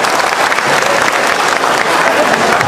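Audience applause at an Indonesian national-unity gathering, a dense, steady clapping from a crowd that holds evenly loud through the whole stretch.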